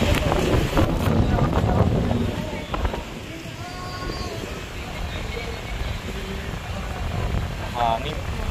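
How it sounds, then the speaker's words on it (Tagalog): Steady wind buffets the microphone on Tondol Beach in Anda, Pangasinan, a continuous broadband roar with faint surf beneath and brief distant voices. "Hangin."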